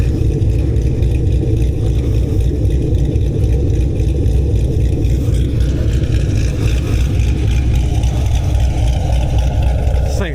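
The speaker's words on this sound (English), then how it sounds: "And I think with that exhaust, it's going to chop." A cammed V8 in a fifth-generation Camaro Z28 rumbles deep and loud throughout with a choppy idle, the low exhaust note dominating from start to finish.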